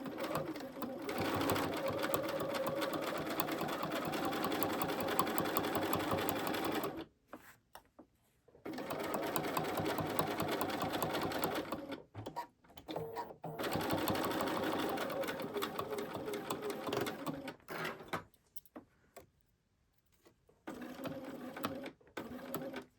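A sewing machine stitches flange binding onto a quilt in long continuous runs of rapid, even needle chatter, broken by short pauses and a few brief bursts near the end.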